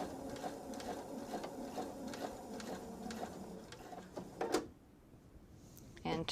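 Sewing machine stitching a fabric coaster, running in a steady, rapid mechanical rhythm for several seconds before stopping abruptly, close and clear with faint background sound.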